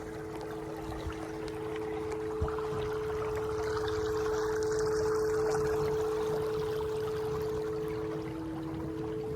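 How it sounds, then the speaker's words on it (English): A small skiff runs at about half throttle, its outboard giving a steady droning hum while water rushes and splashes along the hull, constant and close throughout without talk. "Probably about half throttle right now. Seems to be cutting through pretty good."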